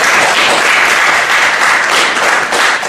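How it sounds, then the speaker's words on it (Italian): Loud, dense applause from an audience at a poetry evening welcoming the poet Berto Maselli, a steady roar of many hands clapping without break. "facciamo un bel applauso"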